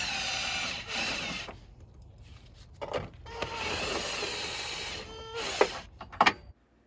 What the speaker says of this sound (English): I'm gonna use an impact real quick, just so I can take them off quickly